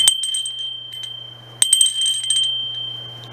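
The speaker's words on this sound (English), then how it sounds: "for a steel bell, it's got a wonderful sound" A bright red steel bird bell is rung near at hand with a clear, sustained metallic ring. Sharp strikes come at the start and again partway through, and each one decays slowly.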